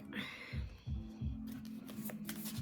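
Oracle cards being shuffled, a brief close riffle of papery flutters and soft taps over rhythmic low thumps and a steady hum.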